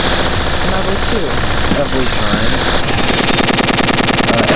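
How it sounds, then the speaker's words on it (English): Game audio from Audiostrike, a Japanese space-invaders-style shooter, fills the clip loudly: rapid dense electronic firing and whooshing blasts, then a steadier pulsing buzz as a charged missile shot plays. "going to use the charge shot on this thing, kill it a little quicker"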